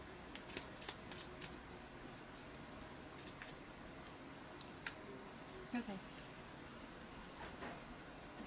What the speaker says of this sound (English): I'm gonna have to shuffle again.